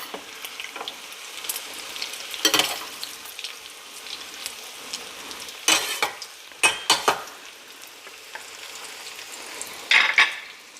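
Egg foo young sizzles and fries steadily in a pan after being flipped, a continuous crackle broken by several sharp spatula scrapes and clinks.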